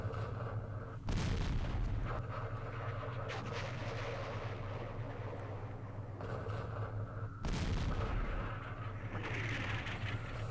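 Airstrike bombs detonate in the Campaign Series Vietnam war game: two loud, broad booming blasts land a few seconds apart, each rumbling over a steady low drone of game background sound.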